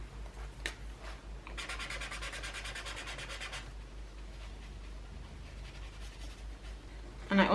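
Tombow Irojiten coloured pencils scratch and rub across paper in close, quiet strokes, with a denser burst of rapid back-and-forth scribbling in the middle.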